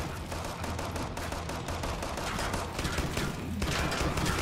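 Enemy gunfire in a video game, a dense, continuous rattle of rapid shots over several seconds, loud and alone.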